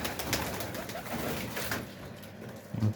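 Pigeons coo softly but steadily, and their low, throaty calls repeat against a faint background hiss with no one speaking.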